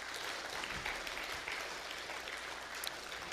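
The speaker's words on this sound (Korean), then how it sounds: "서로 한번 격려의 박수 한번 하겠습니다." A church congregation clapping steadily during a Sunday service, a dense, even patter of applause that holds at moderate loudness for a few seconds.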